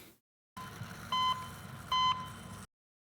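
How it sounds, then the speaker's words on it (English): Electronic beeping from medical equipment in a hospital operating room scene of the anime Monster: two clear, evenly spaced mid-pitched tones, each about a quarter second long, ring out over a steady low room hum with no talking. "Oh, I love the beeping."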